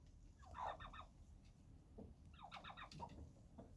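Two young farmyard turkeys, a tom about five and a half months old and a hen, gobble in two rapid rattling bursts with a pause between them, fairly close over a low rumbling outdoor background.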